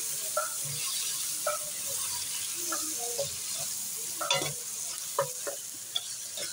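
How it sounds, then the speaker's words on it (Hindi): Onions, tomatoes and green chillies frying in a pan for a chicken masala gravy, a soft continuous sizzle broken by scattered scrapes and clinks of stirring, fairly quiet with no voices. "तो अब इसको हल्का सा हम फ्राई करेंगे चिकन को, सॉरी प्याज को।"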